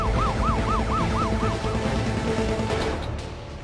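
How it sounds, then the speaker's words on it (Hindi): An Ambassador car with a warbling siren rolls past close by into the Indian Parliament grounds during the terrorist attack, its engine rumbling beneath the wail before the sound fades. "एम्बेसडर गाड़ी अंदर ले गए"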